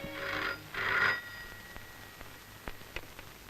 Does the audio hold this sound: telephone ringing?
yes